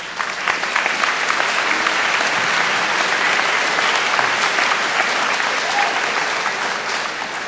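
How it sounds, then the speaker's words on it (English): Sustained applause from a graduation audience at Reedsburg Area High School honoring the chamber singers, a loud, steady wash of many hands clapping alone for several seconds. "How about one more round of applause for the chamber singers?"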